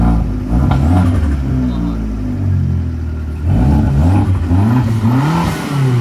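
A Fiat Abarth engine revs up loudly with harmonic rising and falling sweeps, a sustained high-idle drone followed by a couple of sharp revs, near and with people talking over it.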